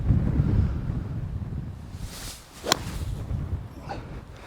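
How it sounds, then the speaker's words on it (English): Strong wind on a golf course buffets the microphone with low, gusty rumbling, easing briefly midway before rising again, with a faint swish. "Really windy."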